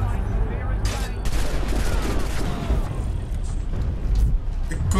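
Rapid bursts of gunfire from Assassin's Creed 3 crackle continuously over a dense rumbling battle backdrop, with sharp shots stacking close and loud across the whole stretch.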